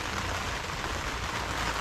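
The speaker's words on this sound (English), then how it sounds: "You can hear the rain coming down outside." Steady rain patters and hisses continuously, a dense even wash of falling drops with no voices.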